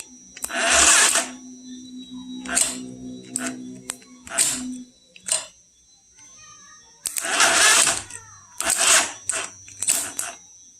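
Weak electric starter motor on a motorcycle that won't start, cranking in several short broadband bursts, each whirring briefly and dying out, with pauses between and a low steady hum underneath.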